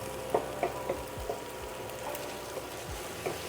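Onions cook in brown butter in a pan, giving a soft continuous sizzle with scattered small pops and scraping taps of stirring, quiet and close.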